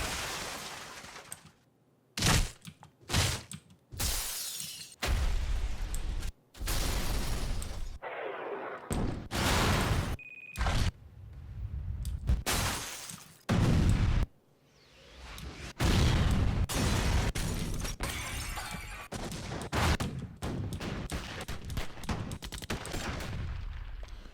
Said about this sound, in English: So we got a whole folder here of stuff that blows up.